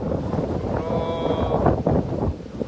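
Strong typhoon wind in Aklan, Philippines, roaring as steady, buffeting noise that hits the microphone in gusts, with a faint higher tone partway through and no clear speech.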